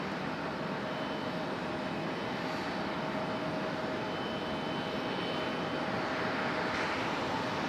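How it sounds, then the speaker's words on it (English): A JetBlue Airbus A220 jet airliner at Raleigh-Durham airport bound for Boston gives a steady, moderately distant engine roar with a faint whine, even in level and slightly building near the end, with no speech. "here's our A220 we've been waiting on"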